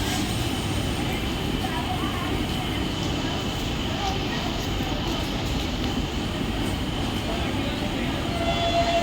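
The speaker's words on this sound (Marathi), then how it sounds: "प्लॅटफॉर्म क्रमांक 1 वर आलेली लोकल 8:47 बदलापूरला जाणारी धीमी लोकल आहे।" Steady rumble and rattle of a slow local commuter train arriving at a station platform, constant and fairly loud, with no clear voices.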